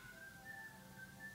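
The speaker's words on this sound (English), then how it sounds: "Listen, that's my ringtone. It's Kill Bill. Uma Thurman, her whistle from Kill Bill." A phone ringtone plays the whistled Kill Bill tune, the Uma Thurman whistle melody, as a faint, steady whistled line with no talking over it.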